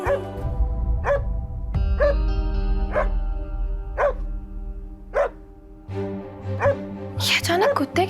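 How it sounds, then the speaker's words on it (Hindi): Dogs bark in a series of sharp, loud barks spaced about a second apart, with a sustained tonal hum and some whimpering yips near the end. "ये अचानक कुत्ते क्यों भौंकने लगे?"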